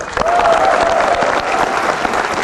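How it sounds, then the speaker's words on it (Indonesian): An audience applauds steadily with dense, continuous clapping close by, holding at a full level for the whole stretch with no talking over it. "Mari kita beri tepuk tangan yang meriah sekali lagi untuk kedua tokoh"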